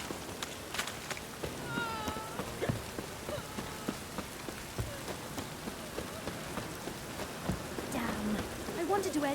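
Rain falling in The Witcher 3, a constant patter of drops on surfaces with scattered sharper ticks and footsteps mixed in, and brief voice-like sounds over it.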